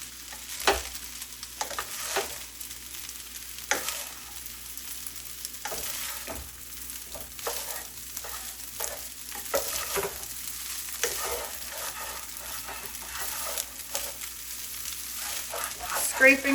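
Leftover chicken frying in a pan, with a soft, steady sizzle and repeated spatula scrapes along the bottom as the pieces are stirred and coated, fairly quiet throughout.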